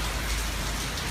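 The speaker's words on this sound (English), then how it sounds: "It's a rainy day in Hong Kong." Steady rain falls in Hong Kong, a dense, even hiss of drops with a low rumble underneath, constant and fairly close throughout with no voices.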